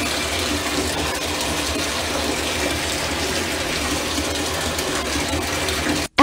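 Hot water gushing from a tap into a bathtub, a steady full roar of pouring water that holds constant and then cuts off abruptly at the very end.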